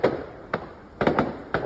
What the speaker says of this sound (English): What you're seeing on the screen, as you can imagine, is the fireworks.